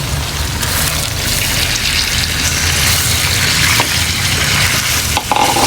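Pork and onions frying together in a pan for pork steak, a loud, continuous sizzle with a busy crackle, close up and unbroken, with no one speaking.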